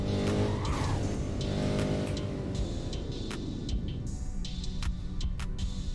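A 2014 Koenigsegg Agera R in the Roblox game brakes hard from 100 mph. Engine tones sweep downward as the car slows, layered over sharp tire squeal and skidding, with a few clicks scattered through the steady engine drone.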